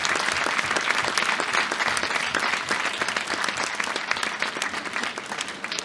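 Sustained, dense applause from a concert audience celebrating an orchestra's 75th anniversary, steady and full throughout with no voices standing out.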